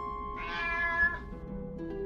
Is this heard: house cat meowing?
yes